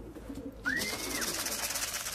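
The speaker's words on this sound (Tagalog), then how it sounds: "Parating tayo ng ibon." Wings flutter and a racing pigeon hen arriving home gives a brief whistling coo, close by, over a steady background hum.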